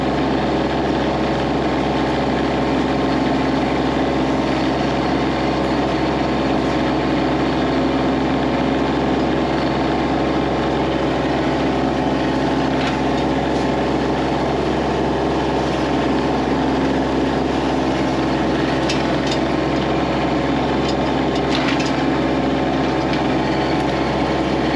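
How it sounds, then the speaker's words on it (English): Tractor engine running steadily while pallet forks push down overgrown brush on a neglected trail, a constant low diesel drone throughout with no talk. "Here I'm using the pallet forks to push the material down so I can run over it."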